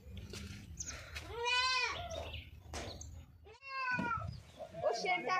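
Goats on a rural village farm bleat in two long, wavering calls, close and fairly loud, with quieter farmyard shuffling and murmurs between them.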